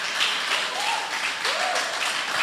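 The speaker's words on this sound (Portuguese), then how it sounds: "aqui pode aplaudir Jesus" A church congregation applauds during a sermon, a steady, dense wash of clapping from many hands with a couple of faint whistles or cheers rising over it.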